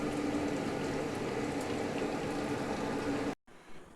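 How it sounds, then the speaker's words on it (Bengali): A chickpea and potato curry bubbles in a covered pot, a steady close seething boil that runs on evenly for a few seconds before cutting off abruptly. "এবারে আরেকটু ঢাকা দিয়ে একটু ফুটতে দিচ্ছি"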